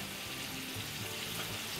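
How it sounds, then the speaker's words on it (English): Pieces of chicken fry in hot oil, a quiet, steady sizzle and crackle that holds evenly throughout with no voices. "so chicken is frying up in here"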